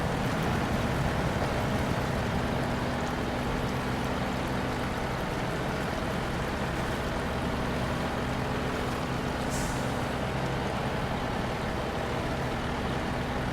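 A truck engine revving as it pushes through water in SnowRunner, a loud, steady engine drone blended with constant rushing, splashing water noise.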